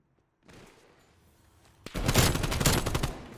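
Gunfire erupts in a multiplayer shooter game during a hardpoint match, with faint shots first, then a loud, dense burst of rapid overlapping fire that continues to the end.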